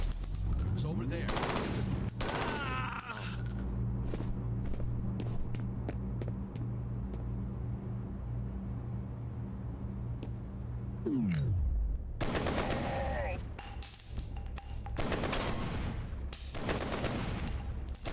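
SMG fire in the shooter game F.E.A.R. comes in bursts of rapid shots, with heavy clusters at the start and again near the end, separated by quieter stretches of ambient game sound.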